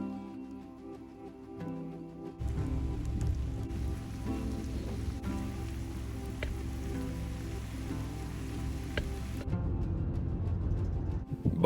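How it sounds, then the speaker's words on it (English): Steady rain falls throughout a road trip day, a broad continuous hiss that jumps louder after a few seconds and holds, with occasional drops striking close by, then eases briefly before swelling again. "the rain just did not stop the entire day"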